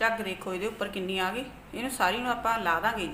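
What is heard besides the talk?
None of the usual background noises is heard.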